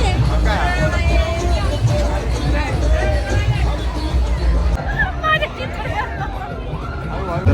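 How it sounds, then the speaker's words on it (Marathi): Dense crowd hubbub at a busy village yatra fair in Kopargaon, many overlapping voices and shouts close by with some melodic calls or music mixed in, loud and continuous. "आता बॅक साईडला इतकी गर्दी झाली भयंकर"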